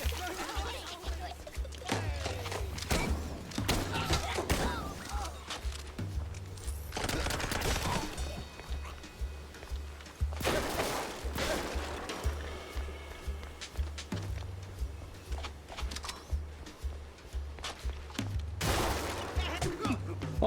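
Video game gunfire sounding as repeated scattered shots and bursts, steady and moderately loud over a busy in-game background with running footsteps, continuing for about twenty seconds.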